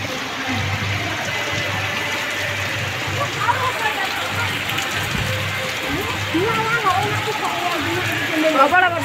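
Heavy rain pours down in a steady, dense hiss that holds throughout, with people's voices talking over it.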